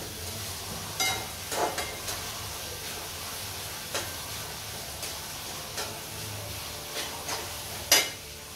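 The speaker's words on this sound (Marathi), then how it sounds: "कांदा चांगला परतून झाला ना, लालसर परतून झाला की आलं लसणाची मी पेस्ट टाकते त्याच्यामध्ये." Onion sautéing in a pan for pav bhaji, a faint, steady sizzle broken by scattered clicks and taps of a spoon against the pan.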